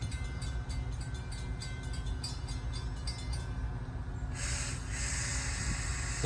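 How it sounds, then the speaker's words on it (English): A Metra commuter train passes near a railroad crossing in Manhattan, Illinois, a steady low rumble of wheels and cars that rises into a broad hiss near the end. "here's the Metra train"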